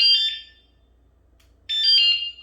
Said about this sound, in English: This scooter does have an alarm on it